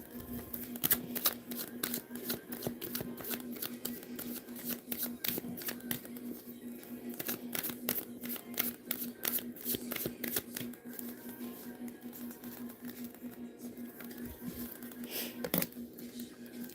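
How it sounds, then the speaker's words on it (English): Tarot cards shuffled by hand in a long run of quick riffling flicks, close and steady, with a faint hum underneath. "I'm going to pull a card for you"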